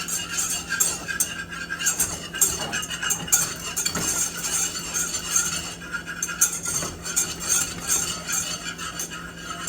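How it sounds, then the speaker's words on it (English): Flour is whisked into foaming butter in a pan for a steak sandwich sauce, giving a continuous close scraping and swishing with a soft sizzle and occasional light clinks of the whisk. "we're gonna add the flour in and start whisking that in"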